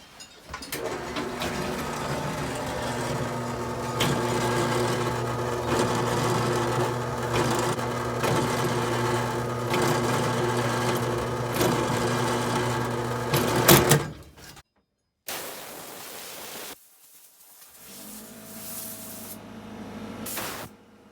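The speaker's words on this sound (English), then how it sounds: "The way I do that is with my drill press." A drill press drilling holes runs with a steady, loud motorized whir and strong low hum for about fourteen seconds, then cuts off, followed by brief quieter mechanical bursts.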